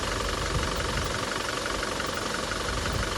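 A Toyota Innova Crysta with about 1.5 lakh of driving, treated with a carbon-cleaning additive, idles with a steady, even mechanical hum and faint ticking, close and unbroken throughout, with no voices.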